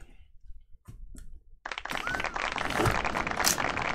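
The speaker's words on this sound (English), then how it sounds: "What round of applause for Puka." A canned applause effect from a soundboard fires during a live football memorabilia case break, a dense wash of crowd clapping that swells in suddenly after a few faint taps and holds steady and loud.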